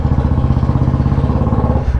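A 2021 Royal Enfield 350 motorcycle engine runs loudly and steadily up close, its low thumping exhaust pulses continuous and alone with no talking.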